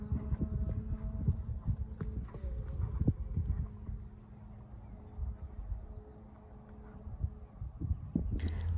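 A horse cantering during jumping practice for shows, hooves beating out a steady, fairly close clip-clop rhythm with no talk over it.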